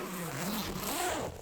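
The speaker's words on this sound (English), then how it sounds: "once we open it up, it has a really nice zipping sound" A zipper is drawn open around a padded ukulele case in one smooth, close zip of about a second and a half, with no talking over it.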